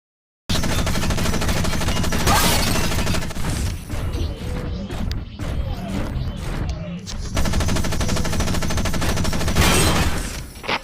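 Loud, sustained mech gunfire from the video game Front Mission Evolved, rapid automatic bursts with crashing impacts running nearly throughout, dipping briefly in the middle before heavy firing resumes.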